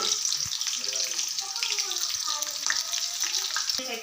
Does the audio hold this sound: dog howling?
no